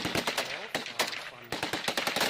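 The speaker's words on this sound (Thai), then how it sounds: "มีเสียงปืนดังขึ้นมาจากแนวป่าทางด้านทิศตะวันออกอีกหนึ่งชุด" Rapid bursts of gunfire crackle in quick succession, sharp repeated shots in a few volleys, loud and fairly close.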